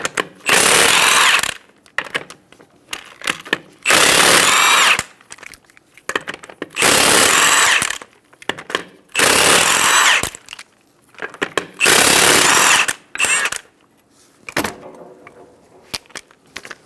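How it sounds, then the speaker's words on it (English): A power tool with a 19mm socket spins off the wheel lug nuts on a Subaru Outback in five loud, separate bursts of whirring and rattling, with short quiet gaps and small metallic clinks between them. "Using a 19mm socket, remove the 5 lug nuts."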